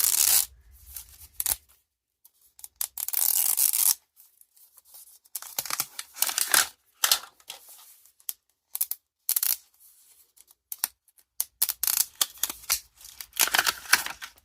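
Brittle plastic packaging is pried and torn open by hand, giving bursts of sharp crackling, snapping and crinkling separated by brief quiet gaps, close and fairly loud, with no talking.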